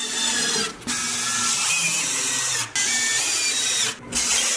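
Phillips screws are driven into a wooden twin platform bed frame with a power driver, a steady close whirring drone broken by three brief pauses about two seconds apart.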